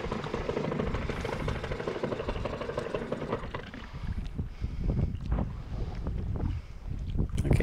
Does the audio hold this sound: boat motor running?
yes